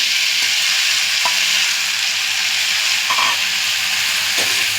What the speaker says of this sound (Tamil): சின்ன சின்னதாக நறுக்கி வச்ச தக்காளி.